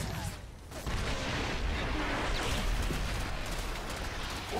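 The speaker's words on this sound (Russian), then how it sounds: "Пушка уничтожена!" Destruction of a cannon in StarCraft 2: Heart of the Swarm, a dense burst of rumbling explosion and crackling debris noise that starts sharply after a brief lull and holds steady.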